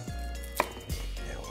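A knife chops mizuna greens on a cutting board, two quick crisp strikes close by in an otherwise quiet kitchen.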